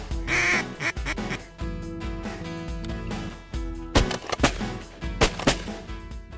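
Ducks quack repeatedly in bursts during a South Dakota duck hunt on a calm, windless morning, the calls fairly close and mixed with other clattering field noise, with no talk over them.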